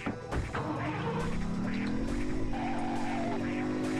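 Car in the video game Driver 2 driving hard and skidding, tires squealing as engine pitch climbs steadily, loud and close, with the sound filling the whole stretch.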